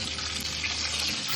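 Cold tap water runs steadily into a pot being prepared for potato salad, a loud, continuous gush close by.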